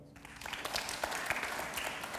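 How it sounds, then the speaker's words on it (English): An audience at a science festival talk breaks into scattered, fairly faint clapping that starts abruptly and continues as an uneven patter, with no talk over it. "Clap if you have two kids, one of whom is a daughter."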